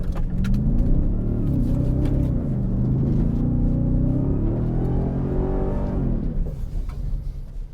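Ford F-150 Raptor R truck driving off-road on gravel, its engine a loud, steady rumble with rising and falling revs throughout, easing off near the end.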